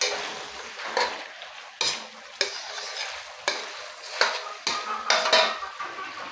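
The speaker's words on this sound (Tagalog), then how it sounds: "Maglagay na rin tayo ng durog na paminta. Haluin lang natin." Chicken adobo with crushed black pepper is stirred in a pan: a steady frying hiss broken by repeated scraping, clinking strokes of a utensil against the metal, close and fairly quiet with no voices.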